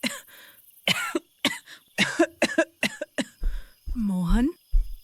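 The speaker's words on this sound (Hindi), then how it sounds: "ये साधारण खांसी नहीं लग रही" A person coughs in a series of harsh, uneven bursts, some deep and rasping, with brief pauses and a strained vocal groan between them.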